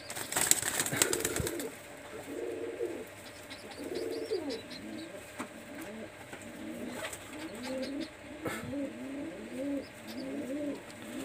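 Pakistani high flyer teddy pigeons, a pair and their single chick, coo in a run of rolling low phrases close by, opening with a brief clatter and later a few sharp knocks.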